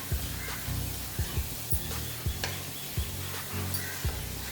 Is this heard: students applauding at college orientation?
no